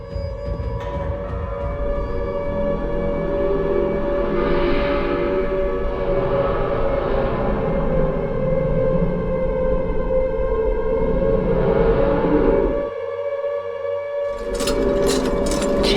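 Warning siren from the video game Silent Hill 2, a long sustained wail holding steady for most of the stretch with a brief dip near the end, loud and alone without any talk.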